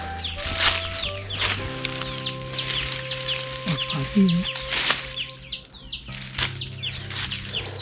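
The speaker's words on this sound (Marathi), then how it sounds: "पक्ष्यांचा आवाज मनाला मंत्रमुग्ध करून देणार असा पक्ष्यांचा आवाज आहे" Birds chirp and call repeatedly in a rural setting, with a steady hum underneath and some faint voices in the background.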